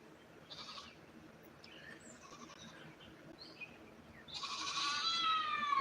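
A donkey on a rural homestead: faint scattered calls early on, then a louder, drawn-out bray near the end, with no one speaking.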